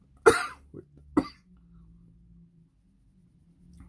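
Two sharp, dry coughs from a person with COVID, close to the mic, followed by a brief throaty sound and quiet breathing.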